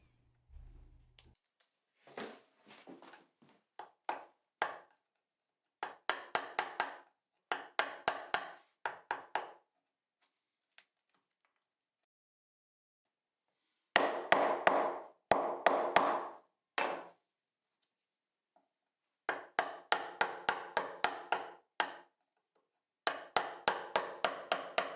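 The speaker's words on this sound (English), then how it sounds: "continues to refine the patch cutout bottom with a chisel." A hand chisel pares wood to cut out a butterfly key patch, producing close, crisp clusters of rapid tapping strikes in short bursts separated by silent pauses.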